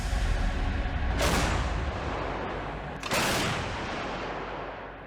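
Two heavy blasts from a K9 self-propelled howitzer with automatic shell loading, about two seconds apart, each a loud booming crack followed by a rumbling decay, with no talking.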